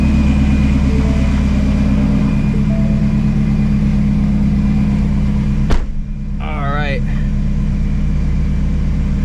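An 800 hp Shelby GT350 engine, leaking oil, idles while warming up with a deep, continuous rumble close by; a brief thump breaks in near the end, and a voice is faintly heard.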